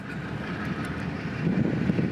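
An intermodal freight train of about 3,500 feet, with reefers among its cars, pulls from a transfer track onto a ramp on Florida's S-line, a steady low rumble that swells slightly toward the end.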